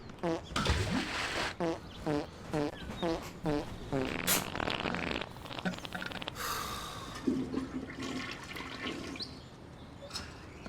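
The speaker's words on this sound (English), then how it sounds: "Did somebody fart?" A comic fart effect in a Family Guy video game, loud and close, set among a flurry of cartoonish sound effects and a brief voice under a busy game soundtrack.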